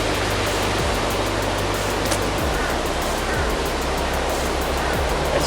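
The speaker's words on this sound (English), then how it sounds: "It's fizzing a lot." A mixture of tartaric acid, water and bicarb fizzes inside a bottle, a steady loud hiss of bubbling with no talk.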